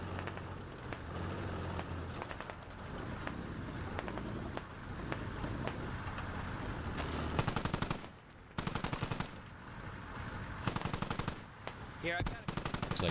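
Gunfire in the military shooter Squad: bursts of automatic rifle fire crackle near and far, with a dense rapid volley building late and sharp clustered shots toward the end, over low background ambience.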